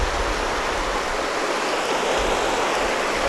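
The Klamath River flowing near Interstate 5, a steady, full rush of moving water that fills the whole clip with broadband noise and no voices.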